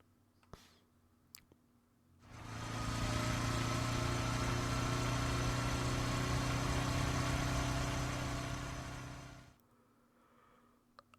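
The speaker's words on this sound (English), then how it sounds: "I closed in on the side of the road and killed the engine." A motorbike engine in the video game Raging Loop swells up after a couple of faint clicks, holds a loud steady droning run for about seven seconds, then cuts off abruptly into quiet.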